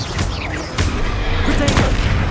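A Bombarda blasting spell in the Hogwarts Legacy game goes off as a loud, close explosive burst with a couple of sharp cracks and a rumbling low tail.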